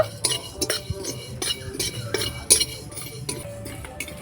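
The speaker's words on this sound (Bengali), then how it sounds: "জিরে নাড়াচাড়া করে আমি ভেজে নেব" A metal spoon scrapes and clinks against a pan in short, irregular strokes while cumin seeds dry-roast, with a low background hum and no frying hiss standing out.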